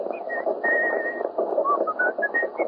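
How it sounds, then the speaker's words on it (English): A person whistles a wandering tune in clear, sustained notes with short slides, close by over a low steady murmur. "What's that tune you're whistling?"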